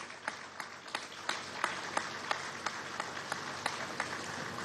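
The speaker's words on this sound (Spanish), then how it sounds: "Otro aplauso para Maturín" Applause from a crowd at a government event with President Nicolás Maduro, a fairly quiet, steady round with sharp, evenly spaced individual claps standing out above the softer clapping.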